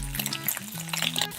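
Turkey bacon sizzles and crackles steadily in hot olive oil in a pan, a close, continuous frying hiss with a faint tonal hum running underneath.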